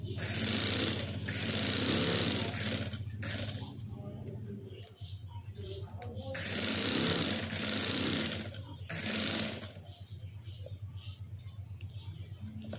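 A sewing machine stitches a fabric chapati cover in rapid, steady whirring runs that stop and start several times, close and clear, with a faint low hum in the pauses.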